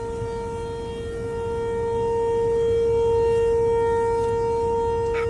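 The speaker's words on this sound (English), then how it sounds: "No one knows it's tornado siren day." Outdoor tornado siren wailing in a city, a steady loud tone holding throughout with a slow swell in volume and a low rumble of background noise.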